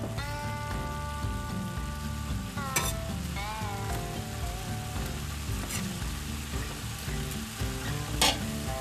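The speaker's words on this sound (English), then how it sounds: "Start sauteing the onions." Onions sautéing in a pan for chili give a loud, steady sizzle and crackle with occasional stirring scrapes, close up, while music plays underneath.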